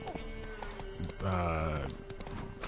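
Horse hooves clip-clopping at a run in the video game The Witcher 3, a steady rhythmic gallop at moderate volume with game sound and a voice talking over it.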